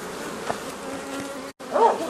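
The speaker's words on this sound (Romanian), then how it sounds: "Am spus că scutur toate albinele din această ramă." Honeybees buzz in a steady, fairly close drone while being shaken off a hive frame by a beekeeper, with a brief dropout and a louder swell of buzzing near the end.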